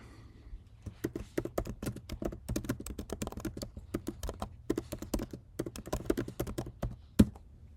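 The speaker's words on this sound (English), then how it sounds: "I can just type what I want the file to contain." Rapid, crisp keystrokes on a computer keyboard while typing text in the nano editor, irregular clusters of close, clicky taps ending with one sharper key hit.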